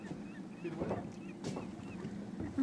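A boat motor hums low and steady on the water near a beluga whale at Red Bay, Labrador, faint and somewhat distant, with soft wind and water wash around it.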